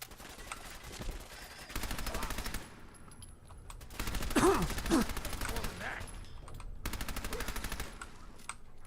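Rapid automatic gunfire in Fallout 4 comes in several loud bursts of fast repeated shots separated by brief pauses, with faint talking in places.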